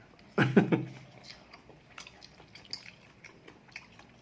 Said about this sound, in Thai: เคี้ยวให้ละเอียดหน่อยแล้วกัน